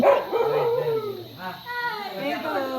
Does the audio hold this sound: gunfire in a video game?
no